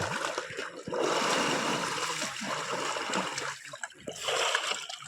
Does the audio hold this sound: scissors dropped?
no